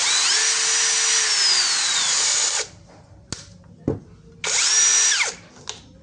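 D.WE cordless brushless 21V drill with a 10 mm chuck, running loud and close in two bursts, each spinning up and winding down, with a few short clicks and knocks between them.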